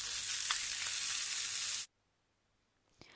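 Chopped onion for palak paneer starts frying in a pan after chilli and ginger, giving a bright, steady sizzle for almost two seconds. Near-silence follows, then a single faint knock.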